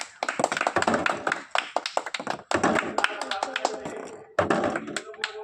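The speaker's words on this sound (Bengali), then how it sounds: "হাততালি দাও, হাততালি দাও, হাততালি দাও।" A group of people clapping hands during a local ball-in-bottle challenge game: rapid, uneven bursts of applause, near and loud, with pauses between rounds and voices talking over it.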